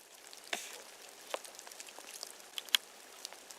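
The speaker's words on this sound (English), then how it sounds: "And it's raining." Scattered raindrops patter in a snowy woodland, soft and irregular with occasional sharper drips close by, over a faint steady hiss.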